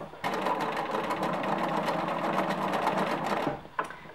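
A sewing machine runs steadily for about three seconds, stitching a flimsy rayon knit V-neck neckband onto a T-shirt, then stops briefly before a short burst; loud and close with no talk.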